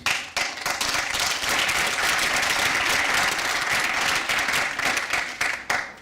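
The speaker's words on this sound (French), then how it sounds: "je pense que vous pouvez déjà les applaudir avant qu'on commence." A room of spectators applauds the participants before the hackathon project presentations and awards, a dense, loud wash of clapping that holds steady for several seconds and thins out at the end.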